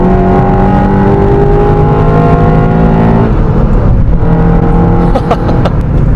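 Engine of a 9th-generation Honda Civic Si cornering hard, heard from inside the car as a loud, sustained drone whose pitch holds steady, then dips and climbs again, with faint clicks near the end.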